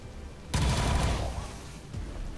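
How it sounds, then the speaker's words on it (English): A gunshot from XCOM 2: War of the Chosen bursts out loudly with a crackling rumble that decays over about a second and a half, followed by a smaller thud. "I think I'm just gonna shoot though."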